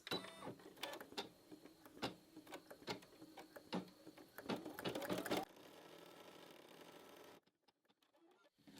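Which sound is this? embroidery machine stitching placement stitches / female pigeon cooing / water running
embroidery machine stitching placement stitches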